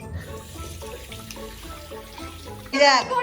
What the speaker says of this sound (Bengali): আমি হাত ধুই